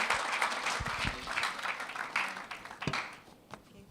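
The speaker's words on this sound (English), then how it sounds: "A round of applause as she comes on stage. Let the applause be louder." Audience applause fills a stage event at a STEM festival launch as the sponsor walks on, a dense wash of clapping that stays steady, then thins and fades toward the end.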